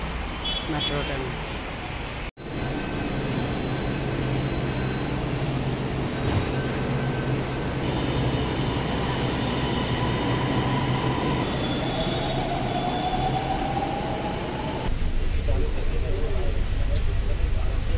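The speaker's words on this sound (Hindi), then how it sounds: "Metro train." A Delhi metro train passes through a station, a loud continuous rumble with squealing wheels and a rising whine, while people speak over the noise.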